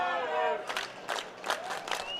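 Baseball crowd at a minor league game between the Great Falls Voyagers and Glacier Range Riders cheering in the ninth inning, with rhythmic bursts of clapping and shouting after a brief announcer's voice.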